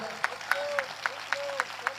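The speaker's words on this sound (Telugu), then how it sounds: "ఒకసారి చప్పట్లు కొడతారా" Rhythmic clapping at a church service, about eight evenly spaced claps over two seconds, with a pastor's voice speaking under them.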